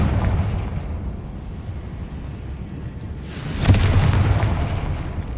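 A Confringo blasting spell in the game Hogwarts Legacy sets off a booming explosion about two-thirds of the way in, a sharp burst that rises out of a low rumbling background and then lingers as a loud roar.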